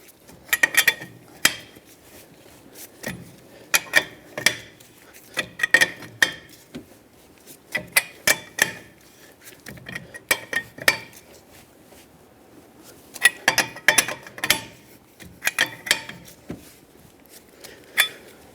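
Metallic clicks and ratcheting bursts from a lug wrench tightening lug nuts on a 2012-2018 Nissan Altima wheel after a flat change, coming in irregular clusters of sharp ticks with pauses between, close by and with no talking.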